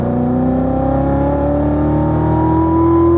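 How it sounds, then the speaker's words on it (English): Corvette Z06 accelerating hard on a race track, its engine note climbing steadily in pitch as a loud, close, continuous roar from inside the car. "Go ahead and accelerate."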